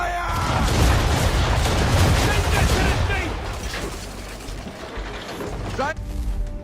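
Ship cannons firing a broadside in an Assassin's Creed 3 naval battle: a dense barrage of heavy booms and crackling blasts over the first three seconds, loud and close, fading to rumbling aftermath and a final short burst.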